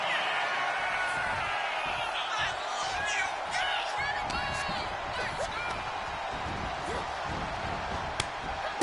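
Crowd noise from the WWE 2K25 wrestling video game, a steady roar filling the arena with scattered whoops and sharp slam impacts, while a commentator's voice runs over it throughout.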